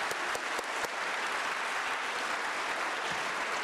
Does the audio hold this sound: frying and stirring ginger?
no